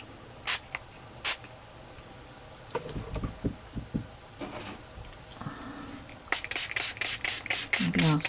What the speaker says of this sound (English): Maybe I'll spray the whole thing and get some water down on it first.